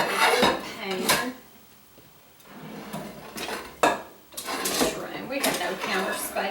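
Drained, rinsed pasta is tipped into a kitchen pan, giving a few clattering metal knocks and scrapes at close range, with someone talking over it.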